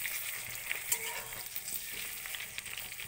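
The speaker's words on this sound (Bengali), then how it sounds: "এবার এটাকে আমি এপিট ওপিট করে ভালো করে ভেজে নিব। আমি একটু এটাকে নেড়ে দিচ্ছি।" Slices of pointed gourd fry in hot oil in a pan, a soft steady sizzle broken by scraping stirs and small crackles, fairly quiet with no talking.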